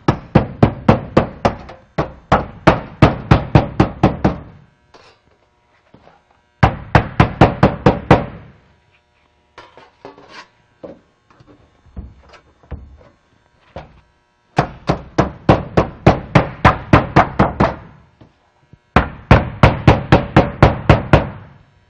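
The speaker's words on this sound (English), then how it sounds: "I can start to open them up with the hammer claw." Rapid bursts of sharp metallic taps as a hammer claw works open the folds of roof flashing, four clusters of quick knocks separated by quieter pauses with scattered light clicks.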